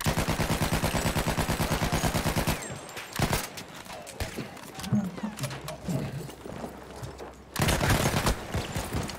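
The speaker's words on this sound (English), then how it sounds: "Enemy machine gun!" Machine gun fire in Battlefield 1 rattles in a rapid, loud burst at first, then breaks into scattered shots and distant rumbling with shouting, before another loud sustained burst near the end.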